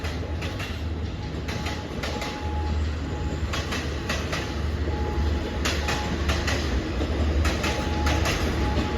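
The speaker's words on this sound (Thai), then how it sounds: "ได้รถจักรเป็นฮิตาชิ นะครับผม ฮิตาชิ เป็นรถจักรหมายเลข 4514" Hitachi diesel locomotive number 4514 hauling a train past the Sri Ayutthaya road level crossing, a loud continuous rumble with repeated rhythmic wheel clacks over rail joints, close by and without talk.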